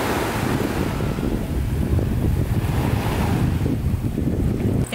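Waves wash onto a quiet beach with fairly clean water, a steady low rumble of surf mixed with heavy wind buffeting the microphone throughout, with no voices.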